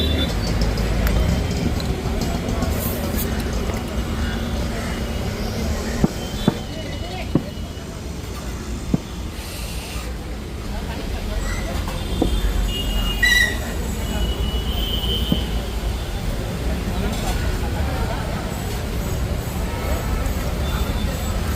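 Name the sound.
Thane railway station with trains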